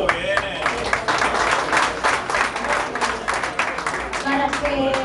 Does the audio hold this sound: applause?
yes